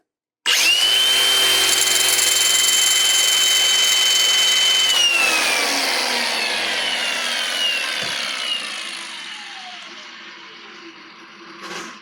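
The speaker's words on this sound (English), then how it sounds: "Now I can start my grinder." An angle grinder chamfers the end of a rod spun in a drill used as a one-handed lathe, giving a loud, steady high whine for about five seconds before spinning down into a long fading rundown.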